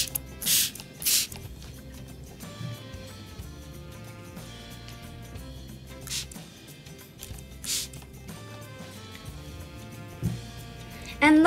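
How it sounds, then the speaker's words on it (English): A handheld spray bottle squirts water onto paint colors in several short, sharp bursts spaced apart, each a brief hiss over a quiet background with faint talk. "now we're gonna spray some water on the colors"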